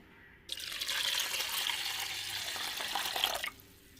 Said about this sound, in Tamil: தேவையான தண்ணி சேர்த்துக்குருவோங்க